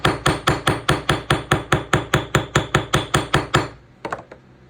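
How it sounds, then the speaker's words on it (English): Steady hammer blows flatten wire for a beaded ring, about fifteen sharp, evenly spaced metallic strikes at close range, then a brief pause and a few lighter taps, with no talking. "And then I'm just going to give it a nice hammer on this side."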